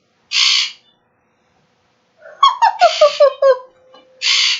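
A pet bird squawking for attention: two loud, harsh bursts bracket a quick run of short chirping squeaks, all close and with no talk over them.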